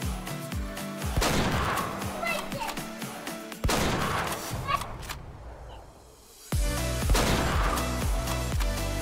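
Rifle shots at a mule deer in a hunting video game, three loud reports at intervals, each followed by a rumbling echo tail, with a short quiet gap before the last shot.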